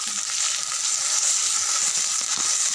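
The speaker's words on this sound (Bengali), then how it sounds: "কড়ার মধ্যে দিচ্ছি জিরা, রসুন, আদা, পেঁয়াজ, আদা, রসুন, পেঁয়াজ আর জিরা বাটা" A paste of cumin, garlic, ginger and onion fries in a wok, a dense, bright, steady sizzle held at even loudness with faint scraping underneath.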